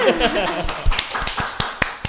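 Several people clap for a man during a casual gathering, giving a handful of sharp, scattered claps close by, with talking over the start.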